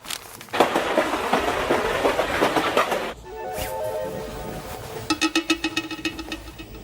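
Steady rumble and rhythmic clatter inside a moving passenger train, loud and broadband at first, then shifting to a smoother hum with a run of regular clicks near the end; no clear talk over it.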